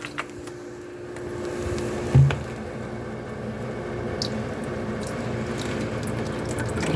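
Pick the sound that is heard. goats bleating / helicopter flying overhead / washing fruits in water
washing fruits in water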